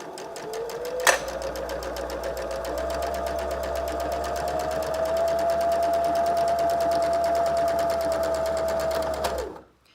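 A sewing machine runs steadily, close and fairly loud, as it stitches along the edge of a fabric face mask. A short click comes near the start, and the motor stops abruptly at the end.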